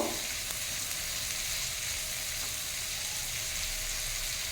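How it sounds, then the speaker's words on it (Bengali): Chopped tomato frying with prawns in oil, a dense, continuous hissing sizzle that stays even and fairly loud throughout, heard close with no talking. "টমেটোটাকেও দিয়ে এর সঙ্গে নামিয়ে ভেজে নেব।"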